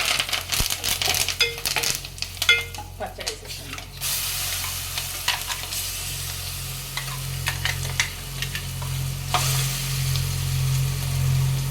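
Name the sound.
tempering sizzling in pan with curry leaves and turmeric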